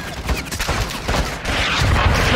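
Heavy gunfire rattles in dense, overlapping bursts during a Call of Duty Modern Warfare II battle, loud and continuous with rumbling low-end blasts.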